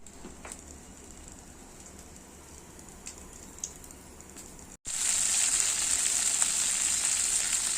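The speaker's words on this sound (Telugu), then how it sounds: "తాలింపులోకి ఆవాలు, జీలకర్ర, మినపప్పు, కరివేపాకు, ఎండుమిర్చి వేసి తాలింపు వేయాలి" Mustard seeds, cumin, urad dal, curry leaves and dried red chillies hit hot oil for a peanut chutney tempering, starting with quiet faint crackles, then erupting into a loud, steady, close hiss of frying.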